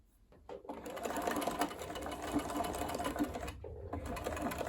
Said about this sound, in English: We are going to stitch from the fold to halfway along.